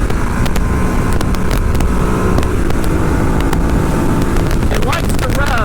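A 2014 Ducati Hyperstrada motorcycle engine revving on a ride, a steady loud engine drone mixed with heavy wind buffeting, recorded from the moving bike with a voice talking over it.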